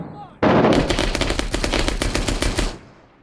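Sharp onset of loud, close automatic gunfire in the Iraq war shooter game Six Days in Fallujah, a sustained rattling burst of about two seconds that cuts off and fades.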